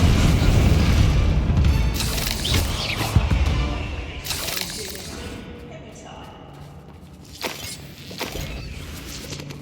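Bombarda spell explosions in the video game Hogwarts Legacy: several deep booming blasts with crashing debris, loudest early and fading to scattered thuds, with brief spoken lines between them.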